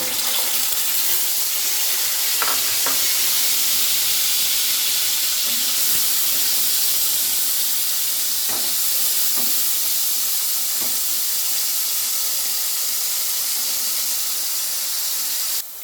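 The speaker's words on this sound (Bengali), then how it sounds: "আলুটাও ভেজে নিচ্ছি।" Potatoes frying in oil in a pan for a Bengali vegetarian pointed gourd dish, a steady close hiss of sizzling throughout with a few faint clinks, no voices.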